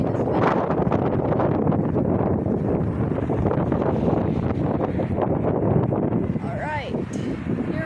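Gusty wind buffets the microphone at Dublin Airport as a Ryanair jet lands, a loud continuous broadband rush and roar that stays steady throughout.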